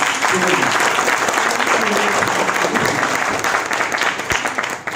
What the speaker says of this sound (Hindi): आप लोगों को बेबी कितनी पसंद आ रही है, तालियों की आवाज के साथ बताएंगे